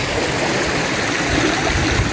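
A river flows through a narrow channel in East Java with a steady, unbroken rushing and gurgling of water, close and even throughout; no voices.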